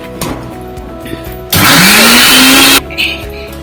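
A kitchen mixer grinder whirs loudly for about a second as it blends ridge gourd chutney, a sharp motor burst rising in pitch, with quieter kitchen clatter before and after.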